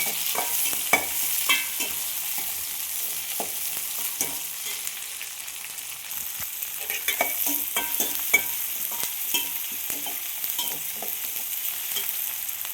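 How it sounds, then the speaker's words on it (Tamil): Cut tomatoes sauté in a pan, giving a steady soft sizzle dotted with sharp pops and occasional stirring clicks, close and continuous. "ஒரு 2 பழம் கட் பண்ணி வச்சுருக்கேன், அதையும் போட்டு வதக்கிக்கலாம்"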